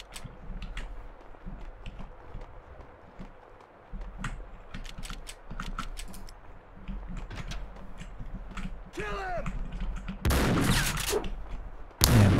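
AK rifle fire in Max Payne 2 rattles through a steady ongoing firefight, with repeated shots over a dense background and a louder burst near the end, no talk.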